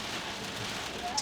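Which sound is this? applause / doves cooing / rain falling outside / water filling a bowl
rain falling outside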